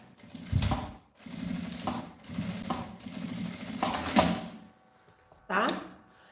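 A sewing machine stitches a fabric pouch in several steady whirring bursts, separated by short pauses and brief handling clatter, with a final short burst after a quiet gap.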